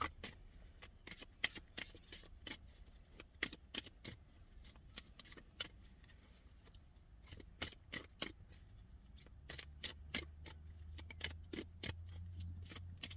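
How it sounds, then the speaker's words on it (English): Playing cards shuffled repeatedly in quick riffling bursts, crisp and close, with a low hum coming in toward the end and no talking. "as I'm shuffling these cards"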